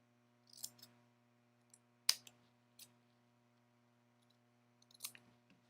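Scissors trim a fabric seam in a few quiet, crisp snips spaced irregularly apart, close by, against a faint steady electrical hum.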